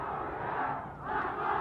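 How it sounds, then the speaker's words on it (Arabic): A loud stadium crowd cheers and chants without pause at an Iraqi Stars League football match between Naft Maysan and Al-Gharraf at Maysan stadium. The roar swells and dips slightly but never drops out. "جماهير تؤازر، نستمع إلى أصوات الجماهير حاضرة بصورة عالية"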